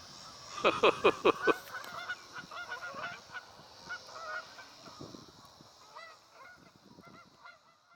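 A flock of geese honking as they fly overhead outdoors, starting with a loud cluster of rapid honks, then thinning into scattered, fainter calls as the birds move off.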